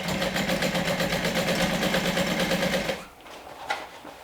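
A home sewing machine runs steadily as it stitches a beginner-friendly pattern with an eighth-inch seam, whirring close and loud for about three seconds before stopping abruptly, leaving quiet room noise.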